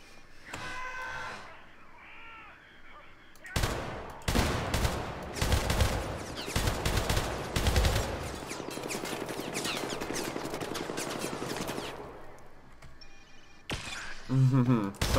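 Automatic gunfire rattles down a corridor in the Syndicate video game, sustained bursts of rapid shots in the middle stretch between quieter electronic game sounds and effects at the start and end.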